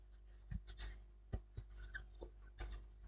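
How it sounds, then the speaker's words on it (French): Paper being scored and creased into folds for a scrapbooked greeting card: a quiet series of short rubbing and scraping strokes, close up, with irregular sharp taps and rasps scattered over a few seconds. "je viens remarquer les plis"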